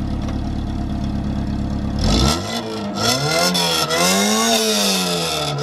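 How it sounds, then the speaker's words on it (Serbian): A car engine fitted with an Akrapovič exhaust system is revved hard after a steady idle, the note sweeping up and down in several loud, close rising and falling pulls, with no talking. "Slušajte sad zvuk, prijatelji, ovo je ubica, znači Akrapović exhaust sistem."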